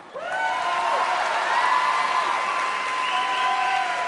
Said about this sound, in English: Make him embarrassed, clap for him.